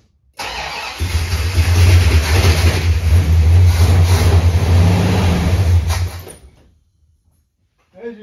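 A 1969 Dodge Super Bee with a 440 Six Pack V8 and three carburetors cranks and fires, roaring loudly into a rough, revving idle up close for several seconds before cutting off abruptly, followed by silence and a faint final noise.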